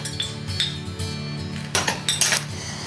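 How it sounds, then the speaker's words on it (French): Utensils clink and scrape against a bowl while a salad of celery, pecans, raisins, surimi and a little green onion is tossed, with soft rhythmic clatter that grows into brighter, louder knocks near the end. "Nous allons mélanger tout ça."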